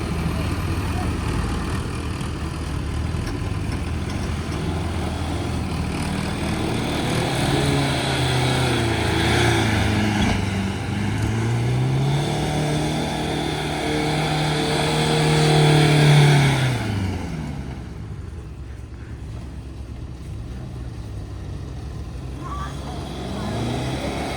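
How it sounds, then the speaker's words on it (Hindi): A tractor engine drones steadily while driving off-road, rising and falling in pitch as it labors, fairly loud and continuous before dropping off near the end. "मैं ट्रैक्टर चलाता हूँ।"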